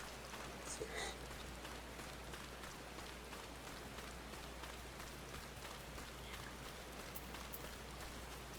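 Rain in the video game Final Fantasy XIV, a soft steady patter of drops on surfaces, faint and continuous throughout, with a few quiet clicks early on.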